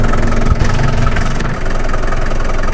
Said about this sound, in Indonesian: Inilah suara mesinnya.